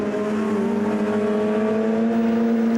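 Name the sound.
race cars on warm-up laps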